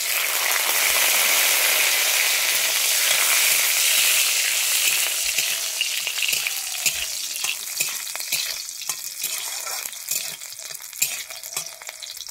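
Cashews frying in hot oil with cloves, cardamom and mace for a Bengali basanti pulao, giving a steady, close, loud sizzle with scattered crackles and stirring scrapes, easing slightly toward the end.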